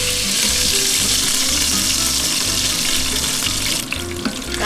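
Venison steak fries in a pan with a loud, dense, steady hiss as moisture cooks off. The sizzle barely changes and dips slightly near the end, with no voices.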